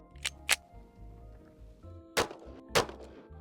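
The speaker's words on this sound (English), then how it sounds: "now I'm shooting hollow points like you're not supposed to do" Four sharp gunshots from a .45 pistol firing 230-grain hollow point rounds at an outdoor range, two close together at first and then two louder ones spaced apart, each with a brief ringing tail.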